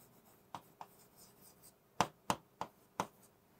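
Pen or chalk strokes during handwriting, a series of short scratchy taps, a few soft ones followed by four louder, distinct strokes, close and quiet against a faint room hiss.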